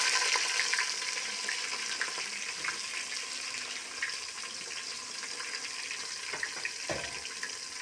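Green garlic and two cut red onions frying in a pan make a steady, dense sizzle with a bright hiss, continuous throughout and heard alone.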